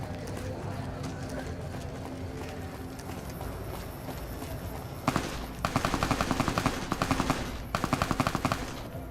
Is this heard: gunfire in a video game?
yes